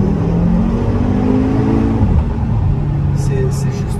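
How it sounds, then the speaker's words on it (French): An Audi RSQ3 with 310 hp accelerates up a mountain road, its engine note rising in a steady, smooth surge that holds loud and close throughout, with some speech underneath. "dès que vous accélérez, la voiture elle part."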